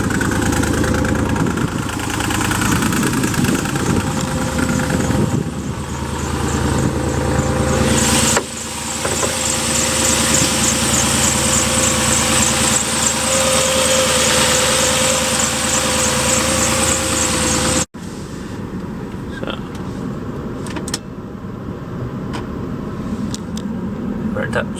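Porsche Cayenne S 957 with a 4.8 V8 idling with blow-by, a steady low engine rumble running close and loud throughout, with music playing over it and a brief break near the end.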